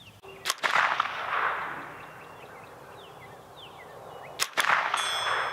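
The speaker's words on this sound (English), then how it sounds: "shooting off sandbags at 10 yards." Two sharp, loud shots from a Rossi RS22 semi-automatic .22 rifle fired off sandbags at a 10-yard target, spaced about four seconds apart, each followed by a short ringing decay.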